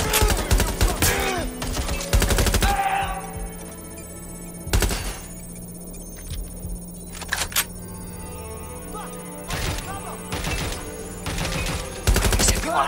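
Automated turret gunfire in Watch Dogs Legion: sharp, loud bursts of shots in irregular clusters, separated by gaps, with a player shouting over the fire.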